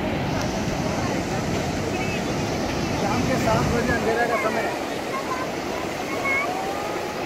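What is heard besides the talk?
sea waves crashing on the shore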